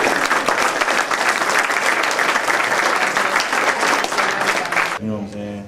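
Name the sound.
round of applause from audience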